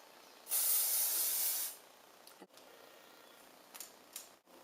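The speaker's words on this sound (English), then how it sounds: "What we're going to do is we're just going to spray this all." A single steady burst of aerosol spray hisses for about a second, close by, followed by quiet room tone with a few faint handling clicks.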